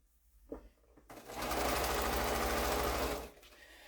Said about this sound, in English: sew different pairs together and different combinations